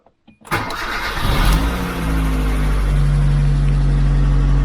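A Kia Cerato engine cranks and catches after a couple of faint clicks, then settles into a steady, loud idle close by with no talking.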